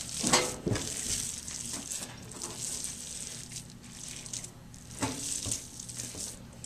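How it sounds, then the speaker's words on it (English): Soft hands kneading bread-like dough studded with pecans, producing faint squelching, pressing and crinkling sounds in an irregular rhythm, with occasional firmer slaps. "now we're going to knead it like bread"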